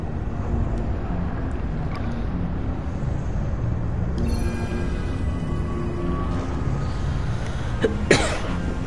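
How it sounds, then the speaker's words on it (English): A single sharp cough lands near the end, close and fairly loud, over the steady ambient music and water sounds of the ABZU underwater game. "Again, I apologize for the coughing."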